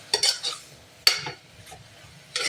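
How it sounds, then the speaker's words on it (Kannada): Eggplant and potato pieces fry in a pan for vangi bath, heard as a few sharp clattering stirs and scrapes with a soft sizzle between them, close by, with no talking. "ಬದನೆಕಾಯಿ ಆಲೂಗೆಡ್ಡೆ ಹಾಕಿ ಚೆನ್ನಾಗಿ ಫ್ರೈ ಮಾಡ್ಕೊಳ್ಳಿ."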